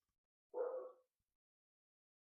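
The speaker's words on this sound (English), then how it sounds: "Sorry if you can hear the dogs barking." A single short dog bark or yip, heard once at moderate distance in an otherwise quiet room, with no voices around it.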